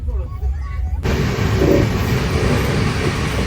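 A long-distance train in motion on the way to New Delhi. A quiet interior with a faint voice gives way to a loud, dense rumble and rattle of the carriages rolling along the track.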